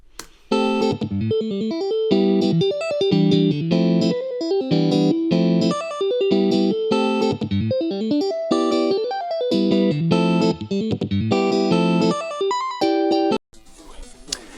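An electric guitar plays a fast, intricate modern riff of ringing chords and tapped melodic notes, bright and continuous, with no voices.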